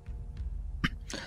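A narrator in a Chinese audiobook voices a short, dry cough, one or two brief rough bursts heard up close against a quiet background, with no other talk.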